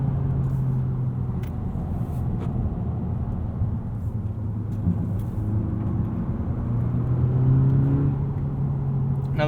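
A 2020 Honda Civic Si engine hums and revs under acceleration on a winding mountain road, a moderate in-cabin drone rising and falling with shifts beneath road rumble and occasional soft knocks.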